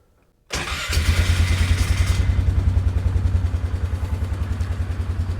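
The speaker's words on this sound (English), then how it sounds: "and it starts up right away." After a brief near-silence, a 1997 Polaris Sportsman 500 quad cranks and fires almost at once, then settles into a loud, close, evenly pulsing idle with a mechanical clatter.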